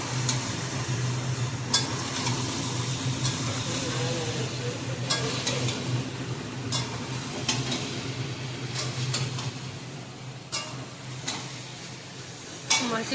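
Potatoes and eggs are sautéed in a pan, with a quiet, continuous sizzle, a low steady hum and scattered utensil clicks and scrapes against the pan; the stirring sounds are close.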